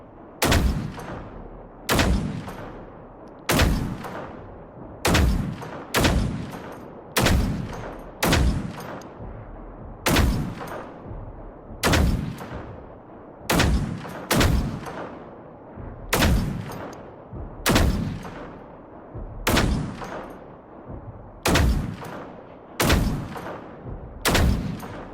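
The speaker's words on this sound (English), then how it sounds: "he should go down pretty easy, just from a couple rounds from our assault rifle here" Assault rifle fire in the video game Generation Zero: about fifteen sharp, loud single shots spaced evenly around every second and a half, each with a short echoing tail, no talking.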